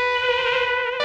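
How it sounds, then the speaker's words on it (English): A Korg Polysix lead patch with opened cutoff and raised resonance, fed through a mini ring modulator, sounds one sustained, buzzy, metallic synth tone with bright clangorous overtones for about a second. "now I've turned the Polysix into a lead patch by reducing the release a bit, opening a cutoff, increasing the resonance, and running everything through this mini ring modulator"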